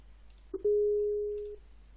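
A Skype call tone after a hang-up: a single steady electronic beep lasting about a second, clean and fairly loud, over quiet background hiss.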